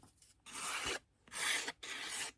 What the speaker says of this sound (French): Un petit coup de lime aussi de ce côté.